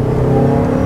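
Toyota RAV4 hybrid engine and planetary-gear transmission whining under acceleration, a steady loud drone with a constant tonal hum and no talk.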